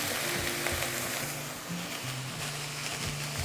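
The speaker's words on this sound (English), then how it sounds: "I'm going to let that oil get hot, and then we're going to drop those veggies. Okay, sizzle, sizzle, hear that?" Vegetables and red pepper sizzle in hot oil in a cast iron skillet, giving a steady, dense crackling hiss with faint low clatter underneath. Close and continuous, with no talking.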